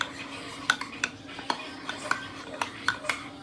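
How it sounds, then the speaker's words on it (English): A utensil clinks and scrapes in a pot as flour is stirred into vegetable broth for gravy, a series of sharp irregular taps, close and fairly loud, with no talking. "just keep stirring the flour with the vegetable broth until you don't see any more clumps"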